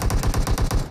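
Rapid automatic gunfire from the mobile battle royale game Free Fire, about eight evenly spaced punchy shots in under a second, loud and close with no voices.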